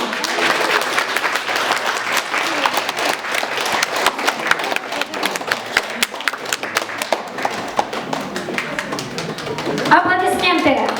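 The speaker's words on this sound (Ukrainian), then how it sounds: "Аплодисменты!" An audience applauds after the ensemble Rus' Pechorskaya is introduced, with steady rapid clapping from a crowd, fairly loud and close, and a voice speaking briefly near the end.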